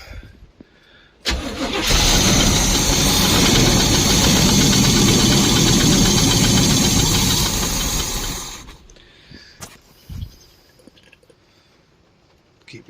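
A 1972 Barth motorhome engine fires after a second of quiet and runs loud and rough for about seven seconds, then cuts out, followed by scattered knocks and clatter close by.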